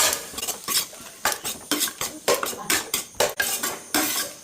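A spoon stirs carrots and potatoes in a metal cooking pot, making a rhythmic series of loud scraping clanks and knocks, close and continuous, with no voices.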